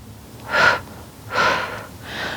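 Forceful breaths pushed out during a stretching routine: two strong, airy exhales about a second apart, then a softer third one trailing off, close and clear with no talking.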